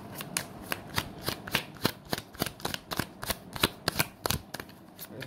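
Tarot cards shuffled by hand in a rapid run of crisp, close riffling snaps, roughly a dozen sharp flicks at an uneven pace with no one speaking.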